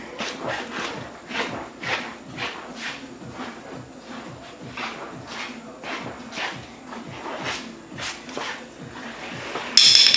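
Repeated light taps with a small hammer on an Audi A4's front suspension, irregular but steady, striking at close range throughout with a few softer knocks in between.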